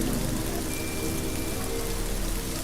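Steady rain pours down at night in a continuous dense patter on surfaces, an even wash of drops with no voices or pauses.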